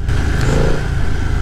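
Engine of a 2020 BMW F900R Sport Style roadster revving, a loud, close, steady mid-pitched drone with a faint clattering edge.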